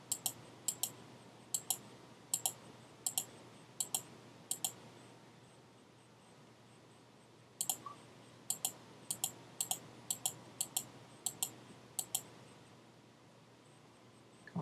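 A computer mouse clicks in quick pairs and short runs, crisp and close against a quiet background hum, with a longer burst of steady clicks partway through.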